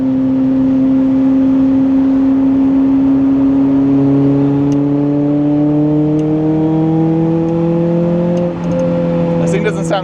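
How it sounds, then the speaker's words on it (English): A Lotus Elise's four-cylinder engine drones loudly from inside the car while driving, its pitch climbing steadily as it revs, with a short dip near the end. A voice speaks briefly over it. "This thing doesn't sound too bad for a little 4-cylinder."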